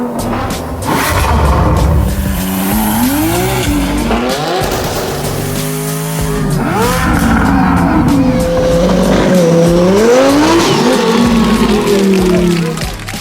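A 920 whp twin-turbo 2023 Chevy Corvette C8 hardtop convertible roars close by, revving up and down repeatedly with tire squeal, loud and continuous.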